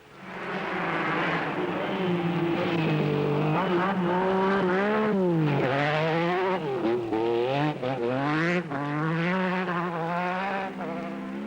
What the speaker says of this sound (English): Toyota team manager Ove Andersson in the 16-valve Corolla.